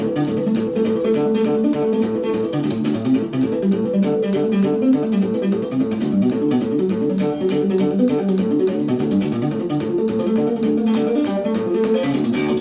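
Electric guitar in drop D playing the closing section of a solo, with fast hammer-on runs in a steady, dense flurry of notes held at even loudness throughout, alone with no talk.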